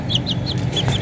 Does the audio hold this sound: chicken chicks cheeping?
yes